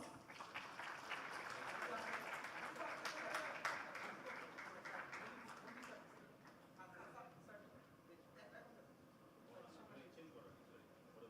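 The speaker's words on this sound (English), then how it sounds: "Can we please have a round of applause?" Applause from a climate action forum audience, moderately loud at first and then thinning and fading to scattered claps, with voices talking over the later part.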